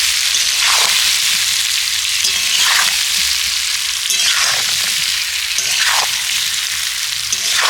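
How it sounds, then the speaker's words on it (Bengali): Raw mango pieces stir-fry with spices in a pan for a sour-spicy pickle, giving a loud steady sizzle with repeated scraping stirs about every one and a half seconds and no talk. "এবার এর মধ্যে আমি আমগুলোকে দিয়ে দেব। আমগুলো দেওয়ার পর মশলার সাথে ভালো করে নেড়ে চেড়ে কষিয়ে নেব।"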